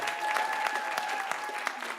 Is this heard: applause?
yes